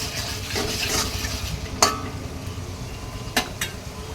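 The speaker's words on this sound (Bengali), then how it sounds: "এবার ভালো করে নেড়ে চেড়ে নিলাম" Potato and pointed gourd curry with dal bori stirred in a pan, a low sizzle under a few distinct spoon scrapes and knocks against the metal, no talking.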